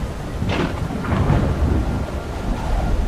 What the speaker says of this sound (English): Can we focus on how Sid wants lightning to hit me?